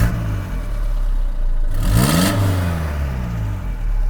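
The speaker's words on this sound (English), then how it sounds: "rev a bit." A car engine revs once from idle, rising to a quick roaring peak and falling back, set against a steady low idle hum recorded close by.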